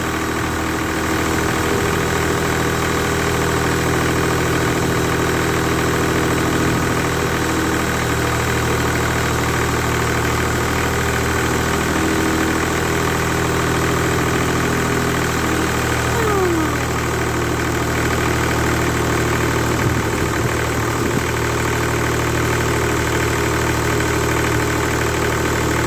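A CompAir mobile air compressor engine drones steadily and loudly, with constant vibration and no change in level, while it supplies air to a grinder. It is heard alone, with no talking.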